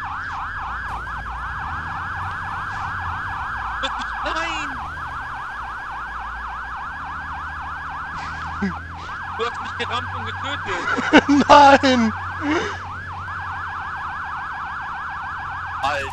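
Police sirens wail continuously and loudly in the Arma 3 video game, a steady rising-and-falling cycle that runs throughout while someone shouts excitedly over it.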